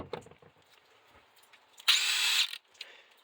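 A DeWalt DCF903 stubby 400 foot-pound impact driver fires once in a short, loud whirring burst lasting under a second, set among quiet handling clicks and near silence.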